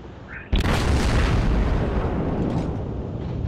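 Ship guns firing a salvo in a naval combat video game: a sudden loud booming blast that rolls into a long, sustained roar and rumble.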